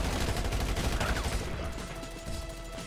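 Rapid carbine gunfire in a Grand Theft Auto V Online casino mission, a dense continuous burst of shots that stays loud, then eases slightly toward the end.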